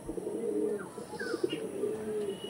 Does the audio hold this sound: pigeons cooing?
yes